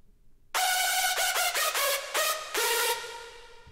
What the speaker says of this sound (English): And the main lead layer sounds like this